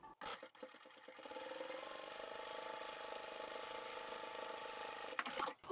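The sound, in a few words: sewing machine top stitching fabric tote bag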